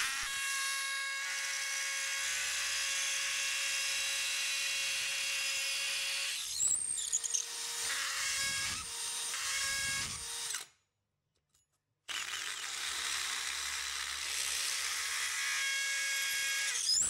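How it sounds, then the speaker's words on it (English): An electric drill opens holes in steel from 10mm up to 12mm, a close whining hum broken by short pauses and bursts, stopping completely for a moment before starting up again, with no talk. "Drilled these out 10mm, I'm just opening them up to 12, so we've got a bit of room for the epoxy chemical fix"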